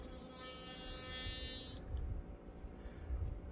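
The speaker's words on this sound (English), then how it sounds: "That's how you fix a Philips Sonicare toothbrush that's loud" A Philips Sonicare electric toothbrush, just repaired after running loud with a loose metal piece, buzzes steadily for under two seconds, then switches off, leaving faint handling noise.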